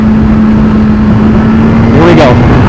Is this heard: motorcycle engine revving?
yes